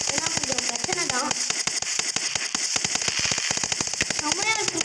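Rapid, loud bursts of Diwali firecrackers cracking and popping in a fireworks video game, dozens of sharp reports in quick irregular succession over a bright hissing background.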